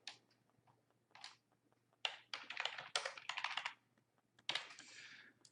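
Typing on a computer keyboard while editing button text, bursts of rapid close key clicks separated by short pauses, with a faint steady hum underneath and no voices.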